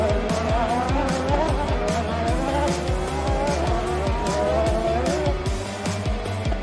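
Race cars speed past with loud, revving engines whose pitch sweeps repeatedly, tires squealing over a dense, continuous roar and no clear talk.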